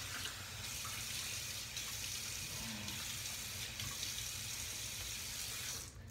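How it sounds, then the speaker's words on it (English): A bathroom tap runs steadily into a sink as water is splashed on the face before a shave, a constant close hiss and patter with a brief clatter near the end and no talk. "let me get my face wet here"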